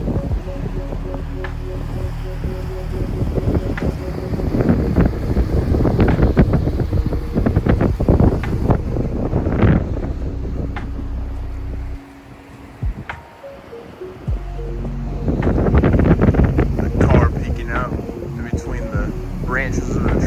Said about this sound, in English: it's a little cold and windy today